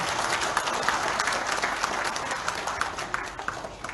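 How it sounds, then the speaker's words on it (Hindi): Audience applause at a Hindu spiritual gathering with a visiting swami, dense steady clapping from a crowd filling the whole stretch at even loudness, no voices over it. "तालियों से महाराष्ट्र को धन्यवाद करते हैं।"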